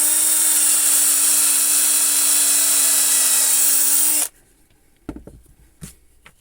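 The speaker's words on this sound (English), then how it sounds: "So I'm just going to drill a hole about here" A power drill bores a hole through a wood slice, a loud steady whine with high hiss running about four seconds before cutting off abruptly, followed by a few faint knocks and handling sounds.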